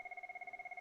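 A telephone ringing on an unanswered call, a faint steady electronic ring tone pulsing rapidly in even bursts, heard alone without talk.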